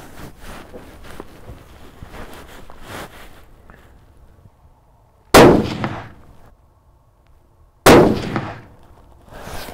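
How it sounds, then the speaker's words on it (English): A Bergara B-14 HMR rifle fires two loud, sharp shots at a steel target a few seconds apart, each a crisp crack with a short ringing decay, after quieter handling and footstep-like noises. "Let's send it again. We'll go top right corner."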